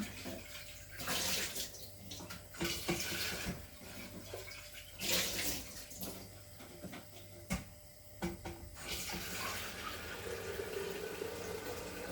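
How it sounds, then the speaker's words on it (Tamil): Water runs steadily from a tap in a home kitchen, with several louder surges as the stream shifts or splashes in the basin, close and continuous with no talking. "பசங்களுக்கு கொஞ்சம் தண்ணி சூடு பண்ணி வச்சிடலாம்"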